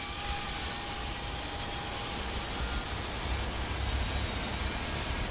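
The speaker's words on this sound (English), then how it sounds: "let's go upstairs and flick on the starter for engine number 1" Engine number 1 of an American airliner spooling up during start in a flight simulator game, a steady loud whine that rises slowly in pitch over a continuous turbine roar.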